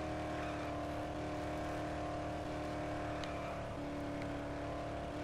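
Inside the Dead Island video game, a car drives past, its engine whirring at a steady hum that shifts slightly in pitch partway through, fairly faint and continuous without voices.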